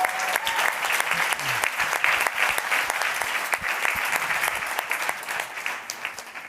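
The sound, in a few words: round of applause from audience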